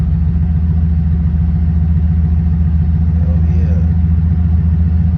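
A 1989 Chevy Caprice with a 5.7 V8 idles steadily after a cold start, a loud, continuous low rumble with an even pulsing rhythm that holds throughout.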